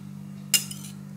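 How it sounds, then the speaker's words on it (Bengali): A single sharp metal clink rings out as a spoon stirs diced yam in water in a pan, over a steady low electrical hum, with no voices. "একটু নেড়ে দিলাম।"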